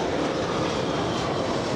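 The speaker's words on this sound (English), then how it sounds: "Another Air Canada landing. This time a 737" An Air Canada Boeing 737 landing at Los Angeles International Airport gives a continuous broad jet roar, steady and fairly loud, with no talking.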